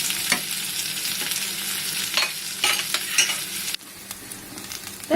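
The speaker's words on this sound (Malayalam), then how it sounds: "എല്ലാ ചേരുവകളും കൂടി നന്നായിട്ട് ഇളക്കി നന്നായിട്ടൊന്ന് മൂപ്പാവണ വരെ നന്നായിട്ടൊന്ന് ഇളക്കി കൊടുക്കാം" Radish curry ingredients with onion being stirred and fried in a pan: a steady sizzle runs throughout with repeated scraping stir strokes, loud and close, then drops to a quieter simmer near the end.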